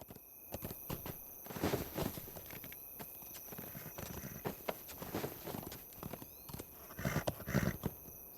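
Horse hooves in the video game Lord of the Rings Online clip-clop in an uneven walking rhythm, interrupted by scattered thuds, over a faint steady electronic tone.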